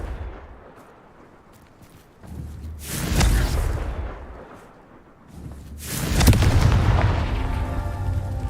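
Two booming blasts from the Confringo spell in the video game Hogwarts Legacy, each a loud burst that rolls off into a fading rumble, spaced a few seconds apart.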